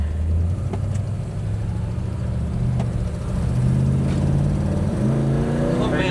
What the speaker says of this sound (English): That little 327 runs good, huh?